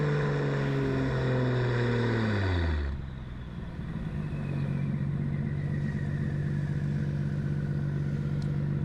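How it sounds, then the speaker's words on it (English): A Nissan Skyline GT-R R34 engine drones loudly and steadily, its pitch sliding down as it shifts, then settling into a constant low hum while cruising. "look at the beach, listen to the engine"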